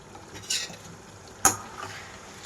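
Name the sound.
green chillies and curry leaves frying in chicken masala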